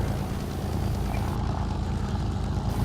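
A propeller aircraft engine in the War Thunder video game, throttle at half with zero propeller pitch while taxiing, giving a steady close droning hum with a faint pulsing beat throughout.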